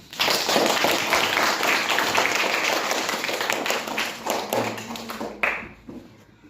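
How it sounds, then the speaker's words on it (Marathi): An audience at a career counseling talk breaks into loud, close applause, dense clapping that gradually thins and trails off into a few scattered claps and a thump. "माझा जर मुद्दा तुम्हाला पटला असेल तर जोरदार टाळी होते"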